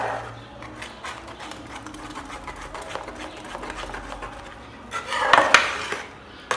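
Clattering scrape of a spoon stirring oats and powdered milk in a metal pot, with steady scraping taps that grow louder and busier near the end; no voices.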